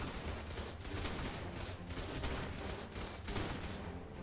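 Heavy gunfire in the video game ARK PvP, with dense, rapid overlapping shots firing continuously at a loud, steady level.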